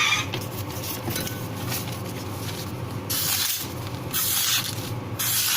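A kitchen knife is drawn across a sharpener in repeated rasping, scraping strokes, close and fairly quiet, with several longer, brighter grinding passes toward the end.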